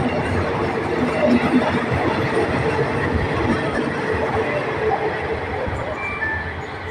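GEA 4554 diesel locomotive hauling ordinary train 211 from Bangkok Hua Lamphong to Taphan Hin at platform 1, heard as a steady, close rumble with faint squeals and other station noise.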